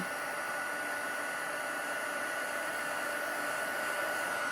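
A heat embossing tool blows hot air onto embossing powder on a birthday card, a steady, even whirring hiss like a small hair dryer, close and unbroken throughout with no talk.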